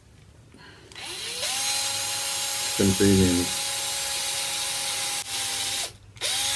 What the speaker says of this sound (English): the jig also helps us drill the hole straight since we don't have a drill press.